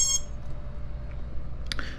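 An FPV freestyle drone's flight controller powering up, giving a short burst of high electronic beeps at the start and another brief chirp near the end over a low steady hum.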